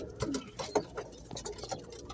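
A pigeon hen rising and attacking other pigeons, with close soft coos and short scuffling pecks and flutters in irregular bursts over a couple of seconds.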